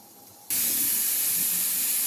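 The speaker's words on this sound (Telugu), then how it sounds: "నాలుగో విజిల్ కూడా వచ్చేస్తుంది ఫ్రెండ్స్" A pressure cooker on a stove whistles as steam bursts out, a loud sustained hiss that starts abruptly and holds steady, with nothing else heard over it.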